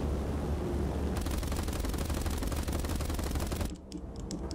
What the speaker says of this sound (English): the blister gun can just do this